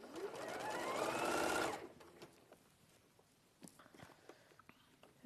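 A sewing machine runs in one fast continuous burst, stitching around the outer edge of a fabric piece, close and clear, then stops and leaves quiet handling clicks.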